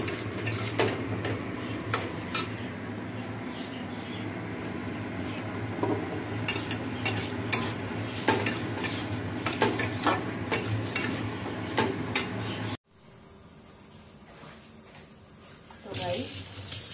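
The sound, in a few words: sautéing potato and cauliflower with spices in a pan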